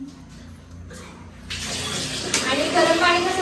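A tap runs in a home washroom while hands are washed. The water starts as a steady, close gush partway through and keeps flowing, with a faint voice in the background.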